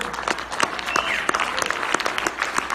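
Applause from a seminar audience, a thin scatter of claps with a few sharper close hits standing out over a soft, continuous patter.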